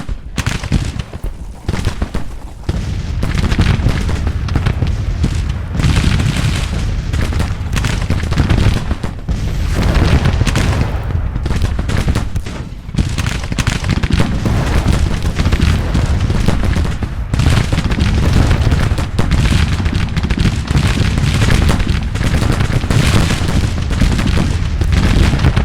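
Dense, continuous gunfire and booming artillery from a Grand Tactician: Civil War battle, loud and sustained with overlapping rifle volleys and cannon blasts and no talking.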